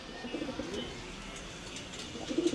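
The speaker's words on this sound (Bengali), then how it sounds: "এই একটা আমার গোলা দেশি গোলা কবুতর" A desi pigeon coos softly nearby in low, rolling bursts, with faint background noise and a few distant chirps.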